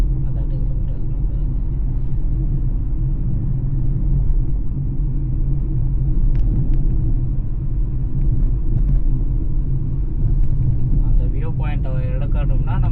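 A car drives across Pamban Bridge over the sea toward Rameswaram at about 30 km/h, with a constant loud low road and engine rumble and a voice briefly rising near the end.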